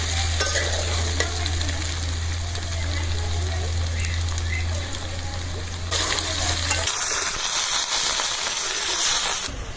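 Chili tipped into onions and potato frying in a pan for a Padma hilsa fish curry, giving a loud, steady sizzle and hiss with stirring scrapes throughout, the frying turning brighter and louder toward the end.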